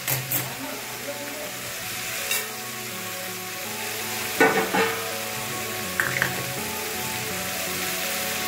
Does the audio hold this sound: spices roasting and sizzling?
yes